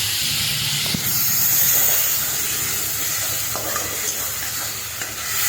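A tomato, ginger and garlic paste hisses and sizzles in hot oil with pointed gourd, a loud steamy wash up close with occasional soft scrapes of a spoon.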